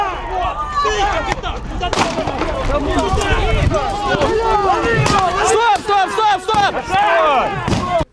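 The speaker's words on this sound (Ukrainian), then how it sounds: "Дивіться, стріляє!" Rapid gunshots crack repeatedly, sharp and echoing, amid shouting voices and commotion.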